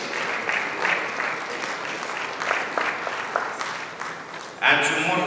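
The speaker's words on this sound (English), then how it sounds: "A round of applause to our amazing panelists." Sustained applause from a conference audience at a Ghana SMEs and young CEOs summit, greeting a technology and innovation panel; steady dense clapping fills the room, swelling louder near the end.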